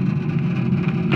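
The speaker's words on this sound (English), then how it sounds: "sorry for the noise, I got the preheater running" A fuel preheater runs as a steady, close, loud drone with a low hum and constant noise, with no one talking over it during the fuel filter pump job.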